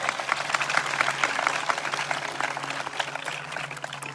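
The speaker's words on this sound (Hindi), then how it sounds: "ये तालियां बजानी है तो जोर दी जाओ, वरना ना बजाओ" Congregation at a church revival meeting in Sahiwal clapping hands together, a dense continuous patter of many palms that holds steady throughout, with a sustained organ or keyboard tone underneath.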